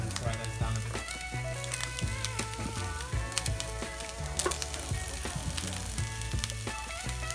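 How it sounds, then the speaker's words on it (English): Onions and peppers fry in hot oil in a pan while a crunchwrap filling is cooked, giving a steady close sizzle with scattered crackles and stirring clatter under faint background music. "now we're just going to add the onions and peppers and fry those down a bit"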